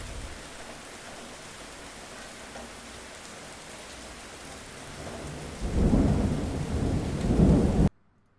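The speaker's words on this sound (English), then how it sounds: "I totally forget that the rain effect is enabled during that section." Rain and thunder effect playing from a PC: steady rainfall hiss throughout, with a loud rolling thunder rumble building over the last couple of seconds before cutting off abruptly.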